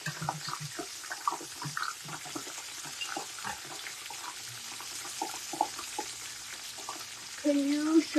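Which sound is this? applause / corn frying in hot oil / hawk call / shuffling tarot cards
corn frying in hot oil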